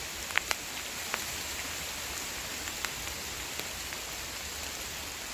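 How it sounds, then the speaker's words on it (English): Steady rain falls across a quiet natural outdoor area, a continuous even hiss with a few brighter drips standing out, heard alone without voices. "You just hear the rain falling"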